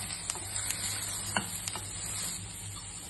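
Carrots and peas sautéing in a pan with garlic for moong dal vegetable khichdi, giving a soft, steady sizzle with a few sharp clicks from a spoon scraping the pan.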